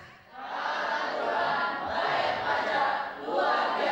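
A loud crowd cheers and shouts in sustained waves at a pharmacy association webinar and branch working meeting in Nias, the roar swelling, dipping briefly, then rising again.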